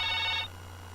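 A short electronic telephone ring sounds at a radio phone-in on a Thai Buddhist dharma call-in show, ringing about half a second before stopping, over a steady low hum.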